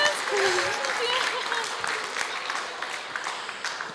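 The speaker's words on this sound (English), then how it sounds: "Give a round of applause to Miss Ines." An audience at the Falling Walls Lab Indonesia 2024 event applauds in a sustained, fairly distant wash of clapping. A voice briefly rises above it near the start.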